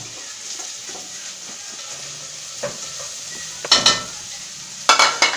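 Peas and eggs stirred through fried rice in a frying pan, a steady soft sizzle with occasional louder scraping stirs near the end, close and without talk.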